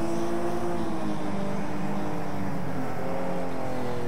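Racing car engine in Next Car Game, a steady loud drone with layered harmonics that rise and shift gently, held close throughout without a break.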